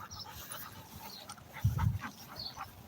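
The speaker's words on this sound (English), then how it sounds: "He's a very strong dog." A strong dog pants steadily and whimpers softly, with a louder close burst of breathing midway, heard without talk.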